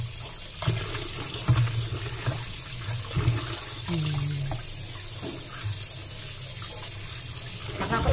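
Running tap water pours over raw beef being washed in a sink, a steady splashing stream with occasional louder sloshes and knocks as the meat is handled, close and continuous.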